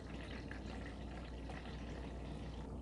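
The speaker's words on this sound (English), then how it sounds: "let me go ahead and pour that into this measuring cup here" Juice poured from a bottle into a measuring cup at home, part of homemade wine making; a steady, close liquid pour runs throughout at moderate level with no talking.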